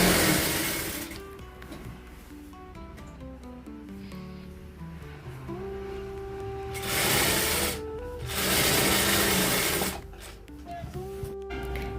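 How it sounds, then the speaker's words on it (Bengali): Sewing machine stitching fabric for a sample skirt piece, running in steady bursts with a whirring hum, under continuous music. "মেশিনটাতে একটু সেলাই করে দেখছে যে ঠিকঠাক চলছে কি না"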